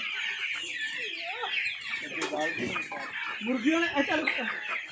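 Chickens cluck repeatedly in a busy flock, close by, while a person talks over the birds.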